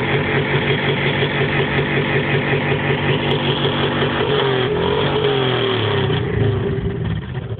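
Motorcycle engine revving loudly at a loudest-motorcycle contest, a steady, close, sustained roar with pulsing revs throughout and pitch shifts near the end.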